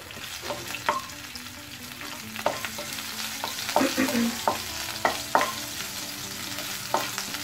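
Green chilies sizzle in hot oil after cumin seeds. A spoon stirs and scrapes the pan in irregular clacks over a steady, close-up fry.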